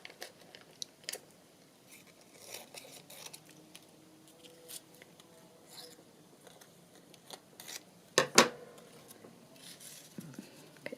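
Scissors snip through a piece of lace doily in a quiet room, with soft handling rustles and a single crisp, close cut standing out near the end.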